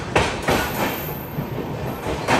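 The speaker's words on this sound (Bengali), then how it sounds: "ট্রেন হয়তো এখানে হল্ট করবো না" Shantiniketan Express rolls along the rails between Guskara and Bardhaman, a continuous rumbling roar with rhythmic wheel clacks, heard close and loud with no talk.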